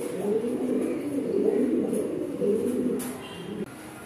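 Several pigeons of an adult breeding pair coo in soft, low, rolling phrases that repeat in overlapping waves, fairly close, over light background noise.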